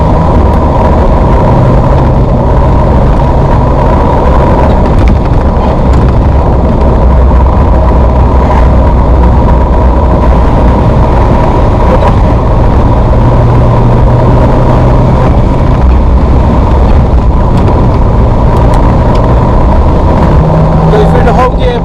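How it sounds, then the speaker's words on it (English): A Ferrari 348 drives and accelerates through its gears, its engine a loud, continuous in-cabin roar with shifting pitch over a bumpy road, and someone talking over it. "Go through the whole gearbox. You should feel the acceleration of the car."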